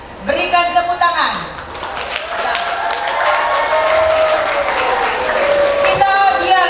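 Applause rises across a hall at a vocational school graduation and pinning ceremony, a broad wash of clapping and crowd noise that follows a brief stretch of speech and holds steady to the end.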